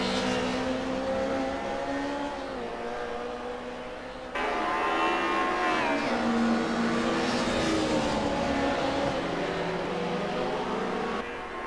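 Race car engine in Assetto Corsa at Vallelunga, a loud sustained howl with rising and falling revs as the car passes through, steady throughout with a brief dip midway.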